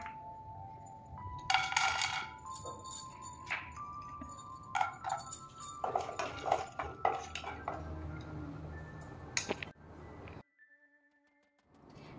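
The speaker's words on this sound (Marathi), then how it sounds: "ड्रायफ्रुट्स तुपामधून आपण मस्तपैकी भाजून घेऊयात" Dry fruits are stirred while roasting in hot ghee in a pan, heard as close metallic clinks and scrapes of a spoon against the pan, irregular and fairly quiet, ending in near silence.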